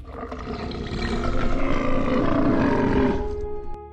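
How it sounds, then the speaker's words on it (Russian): A deafening, low dinosaur roar swells and holds for several seconds, loud and rumbling with a rough growling texture, then cuts off abruptly. "Внезапно оглушительный низкий рев, который заставляет вибрировать динамики."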